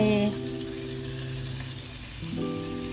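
Sauce ingredients for sweet and sour shrimp stir-fry in a pan with a steady, close sizzle that runs throughout, under soft sustained musical tones and without talk.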